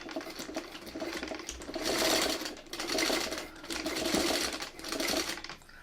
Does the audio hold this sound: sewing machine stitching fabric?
yes